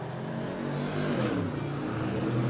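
At a New Smyrna race, a field of cars including a Corvette and a Mustang accelerates away at the green flag, engines rising together in a loud, layered roar that climbs in pitch as they pull off.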